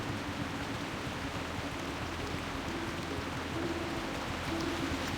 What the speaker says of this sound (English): It's a rainy day, Deadwind Pass.